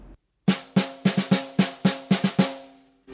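Snare drum struck in a double stroke roll pattern with accents falling on the third 16th partial: eleven sharp, ringing hits in an uneven bouncing rhythm, close and loud with no voices.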